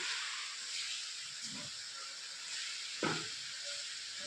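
Potato and spinach sabzi cooks in a pan with a faint, steady sizzle and hiss, broken by a couple of soft ladle scrapes and stirs.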